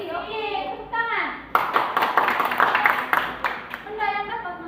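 Children in a classroom clap their hands in a short burst of about two seconds, close and lively. A teacher's voice comes before and after the clapping.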